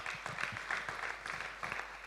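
Audience applause for the organizers at a financial talk event, fairly faint and uneven, with loose clusters of claps that rise and fall in short bursts.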